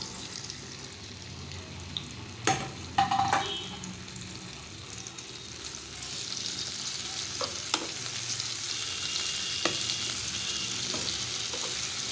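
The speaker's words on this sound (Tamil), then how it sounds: "எண்ணெய் ஊற்றிட்டு வதக்கிக்கலாம் இந்த கத்திரிக்காவை" White brinjal sautéing in hot oil for sambar, a continuous low sizzle throughout, with a few sharp utensil knocks early and light scraping stirs later, close up and with no talk.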